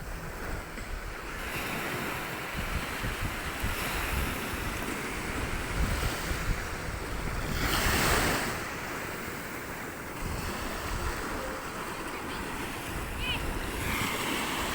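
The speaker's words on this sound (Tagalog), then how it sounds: "Mahangin kasi." Strong wind buffets the microphone over crashing surf, a constant roar that swells into a louder gust midway before settling.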